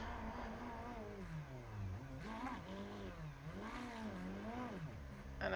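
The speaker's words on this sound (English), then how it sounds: "Urquhart doing a celebratory burnout as well" GT3 race car in the iRacing sim doing a celebratory burnout at Circuit of the Americas, with a steady engine drone and repeated rising and falling revs, held at an even level throughout.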